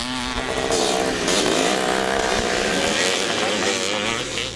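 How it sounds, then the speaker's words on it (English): Vintage motocross motorcycles roar past during a race at a vintage motorcycle event, several two-stroke engines whining and revving together in a loud, continuous, wavering buzz. "More vintage motocross classes blasted off throughout the day as they put on a brilliant display of racing"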